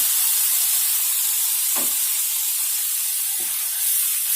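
Onion paste hitting hot oil in a pan while cooking a Nawabi hilsa fish dish, a steady close broadband sizzle with a couple of brief soft bumps from stirring.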